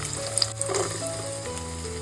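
Onion and garlic fry in hot oil for a chicken curry, a quiet, even sizzle with a few faint clicks of stirring near the start, and no one speaking.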